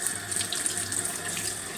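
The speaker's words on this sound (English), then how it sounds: "Now I'm going to wash my hands." A tap runs steadily into a sink as hands are washed, a close, constant gush of water with slight splashing variations and no talking.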